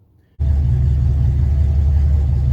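Engine starts and settles into a steady, loud idle rumble with the 6R80 automatic transmission during build testing, a continuous low drone after a brief quiet start.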